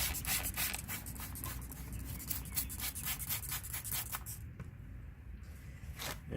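A hand pad rubs up and down across a car headlight during restoration sanding, a soft, quiet, continuous scratchy rasp with a steady back-and-forth rhythm.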